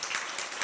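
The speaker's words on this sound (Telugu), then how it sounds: "కొంతమంది ఇంకా చప్పట్లు కొట్టలే పురుషుల్లో" A seated audience at a Sathya Sai temple discourse claps briefly, a soft, dense patter of many hands heard from a distance.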